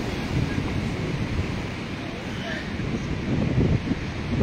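Rough, heavy sea with surf pounding and strong wind buffeting the microphone, a dense continuous roar that swells slightly toward the end, no speech.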